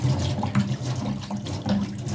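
Tap water runs steadily into a sink while tofu is washed and soaked, a continuous close splashing stream with no talk.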